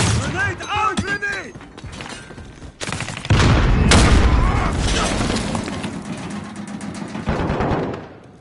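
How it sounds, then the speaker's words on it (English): A grenade blast and gunfire in a PS4 shooter: a heavy boom followed by bursts of shots and a rumbling tail, loud and close, with a player shouting over it. "Grenade out! Grenade!"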